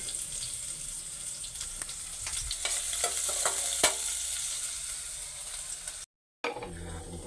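Garlic sizzles steadily in hot oil in a pan for Filipino pinakbet, a bright continuous crackle with occasional stirring scrapes, close and alone before a brief dropout.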